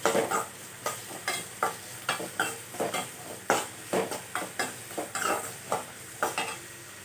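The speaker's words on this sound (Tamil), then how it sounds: "வெங்காயத்தை நல்லா வதக்கிக்கோங்க." Onions sautéing in a pan for paneer masala, a soft sizzle under a regular rhythm of spoon scrapes and clinks as they are stirred, close and alone without voices.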